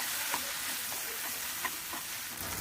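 Homemade noodles are stirred and mixed in a hot pan, a continuous dense sizzle with a few soft scraping clicks from the stirring, close and even in level.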